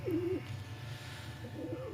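Rooftop pigeons cooing, two soft throaty coos near the start and end over a low hum, fairly close and quiet, no talk.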